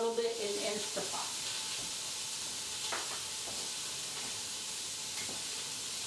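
A roast searing in an Instant Pot on the sear setting gives a soft, steady sizzle, with a few brief utensil knocks and scrapes near the start and scattered throughout.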